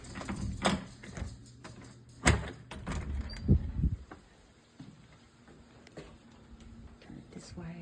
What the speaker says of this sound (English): I can get the door unlocked.